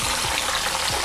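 Boneless chicken thighs fry in a generous amount of cooking oil for lemon chicken, giving a dense, steady sizzle and crackle up close with no voices.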